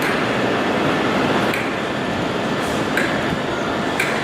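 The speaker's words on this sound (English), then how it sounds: "this is the Caledonian sleeper train that's obviously come from Scotland" The Caledonian sleeper train from Scotland rumbles steadily at Euston station, a broad continuous roar with faint metallic clicks, close and unbroken.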